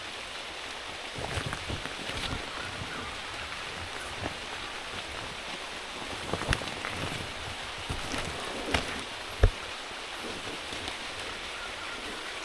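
Light rain falls during a mangosteen harvest, a faint, steady patter with occasional sharper drops and small knocks.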